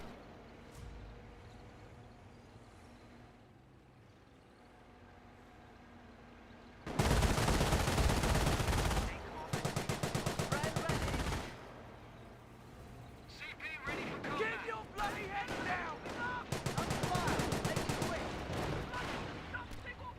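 Volksgrenadiers open fire on a Bren carrier in Company of Heroes: loud, dense bursts of rifle and machine-gun fire crackle in repeated volleys, with a commentator talking over and between them.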